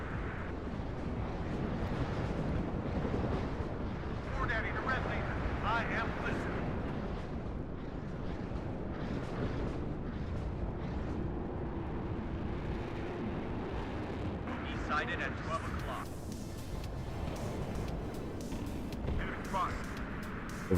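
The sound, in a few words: artillery fire hitting mortars in the video game WARNO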